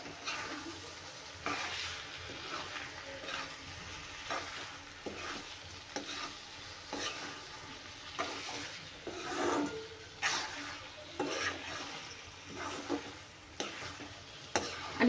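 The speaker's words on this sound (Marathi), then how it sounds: "आणि हे मिक्स करूया" A spoon stirs boiled eggs through a frying egg curry masala in a pan, with soft scraping strokes at an irregular pace over a low, steady sizzle.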